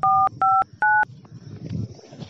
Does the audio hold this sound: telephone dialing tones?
yes